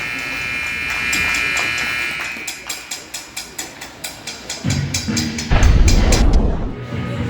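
A loud, sustained electronic end-of-period buzzer sounds at a youth ice hockey game, followed by a rapid series of repeated pulsing beeps and crowd noise in an arena.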